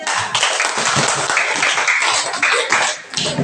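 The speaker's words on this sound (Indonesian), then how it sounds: "Kasih tepuk tangan tidak." A school class claps hands together for a group that has just presented in a lesson, a loud, slightly uneven burst of many hands that runs through the clip with small dips.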